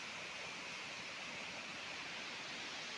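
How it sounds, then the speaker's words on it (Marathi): Waterfall flowing during heavy monsoon rain near Ganpatipule in Ratnagiri, a steady, faint, distant hiss of rushing water with no variation and no voices. "ते धबधबा वाहतोय"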